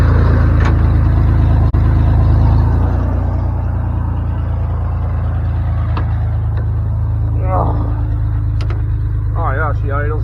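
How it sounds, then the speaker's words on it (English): A 90s Ford truck engine runs close by, its loud rumble settling down to a steady, lower idle after a few seconds while someone talks over it. "Oh yeah, she idles down and everything."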